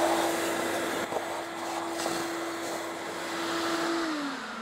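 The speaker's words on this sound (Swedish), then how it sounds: "här är luftfiltburken, då är det en smart idé att dammsuga ur då" A vacuum cleaner runs loudly and continuously with a steady whine, cleaning out the air filter housing of a 2013 Volvo V70 D4, its pitch dropping slightly at the end as the suction shifts.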